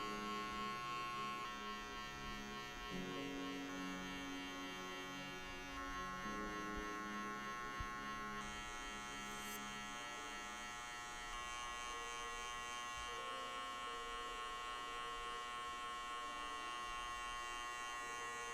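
Electric hair clippers with a number 2 guard buzz steadily while cutting hair, a continuous close hum with slight shifts in tone as the blade moves through, and no talking.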